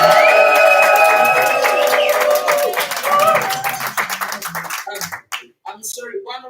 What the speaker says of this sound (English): I'm going to ask everybody to give you a big wave and a big cheer